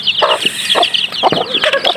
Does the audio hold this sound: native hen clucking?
yes